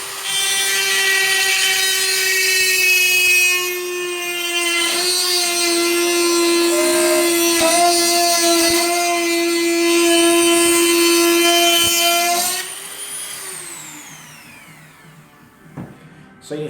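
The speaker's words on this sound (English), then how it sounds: "So you heard there the drill," A power drill bores through the sacrum and pelvis bone of a wildebeest skeleton, a loud continuous whine holding steady for about twelve seconds with slight strain changes, then spinning down and fading into quiet handling sounds.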